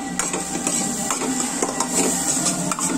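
Spices hit hot oil for a tempering while making kurma bhaji with cashews, giving a continuous loud, crackling sizzle with faint scraping stirs and no voices.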